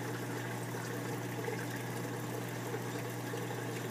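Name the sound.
reef aquarium water pump and water spilling into sump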